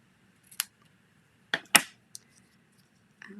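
Small craft snips cutting paper for a handmade card, a few crisp close snips with a quick double cut in the middle and quiet pauses between.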